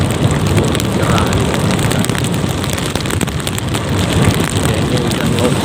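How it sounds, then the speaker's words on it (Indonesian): Local rain during a daytime drive toward Alus-Alus village on Simeulue, Aceh: a dense, steady patter of rain on the car with a low road and wind rumble beneath. "ini hujan lokal"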